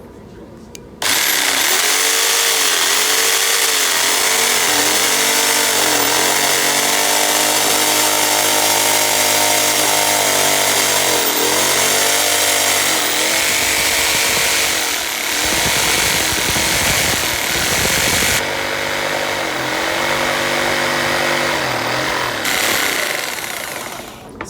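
A corded power tool cuts material under a trigger that is released and squeezed again, giving a loud, close, continuous whine. The pitch dips and swells in repeated bursts, with no talk over it.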